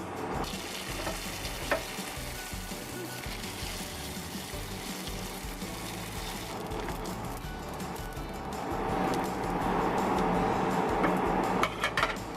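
Thin seaweed crackers deep-frying in hot oil, a steady bubbling crackle throughout that swells louder and busier toward the end, with a few faint utensil clicks and no talking.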